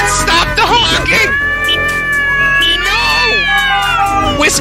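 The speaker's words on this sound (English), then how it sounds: "Fucking cats, stop the honking!" Several house cats yowling and caterwauling loudly in long wavering cries close by, with a person shouting over them at the start.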